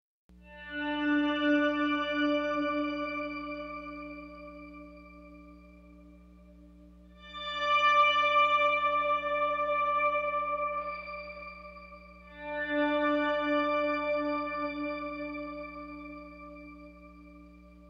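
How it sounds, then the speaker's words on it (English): A sustained guitar chord blooms into a shimmering reverb swell from Strymon and Eventide effects, each regeneration rising in pitch with bright overtones, fading, then swelling again three times in slow waves, wet signal only. "This causes each regeneration of the reverb to rise in pitch, which intensifies the overall swell effect."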